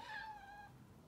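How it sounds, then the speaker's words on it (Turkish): A single faint, short meow comes from a cat excited by the smell of catnip, heard softly in the background. "muhtemelen kedi otunu kokusunu aldığı için çok fazla miyavlıyor."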